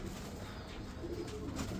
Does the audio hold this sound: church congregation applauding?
no